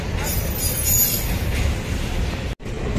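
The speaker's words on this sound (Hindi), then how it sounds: "गाइस, ये हमारी ट्रेन आ गई।" A train pulls in at a station with loud continuous rumble, wheel squeal and clatter filling the whole clip; faint voices may sit underneath.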